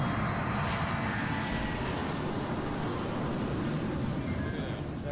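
A private Boeing 757 jet powered by Rolls-Royce engines, a steady broadband roar of engine noise sustained evenly throughout, heard close as if from inside the cabin.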